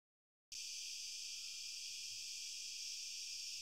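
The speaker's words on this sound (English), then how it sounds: "the recording is kind of low because the cicadas are kind of far away" Distant cicadas, recorded on a phone and cleaned with noise reduction, start abruptly as a steady, even high-pitched drone that holds unchanged to the end, with nothing else heard.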